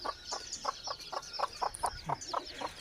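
Young junglefowl hybrid chicks clucking in a regular series of short, soft peeps and clucks, about a dozen evenly spaced calls, fairly close and quiet.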